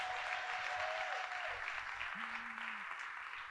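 An audience at a school district back-to-school address applauds new principals and administrators with steady, moderately distant clapping throughout, while a couple of brief tonal whistles or feedback tones sound over it.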